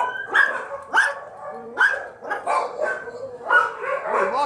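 A dog barks repeatedly up close, a series of sharp yappy barks mixed with whiny yelps in an uneven rhythm.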